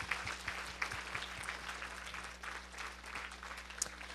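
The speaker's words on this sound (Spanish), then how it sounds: "¿Cuántos pueden dar un aplauso al Señor conmigo?" A church congregation clapping in praise to the Lord, a steady wash of many hands at fairly low level with a faint rhythmic pulse, under a constant low hum.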